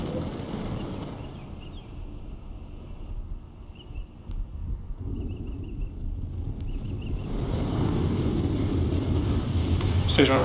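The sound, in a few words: SpaceX Falcon 9 rocket ignition and liftoff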